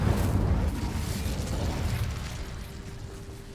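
Incendio fire spell cast in Hogwarts Legacy, a loud burst of fiery rushing noise with a low rumble that slowly fades over a few seconds.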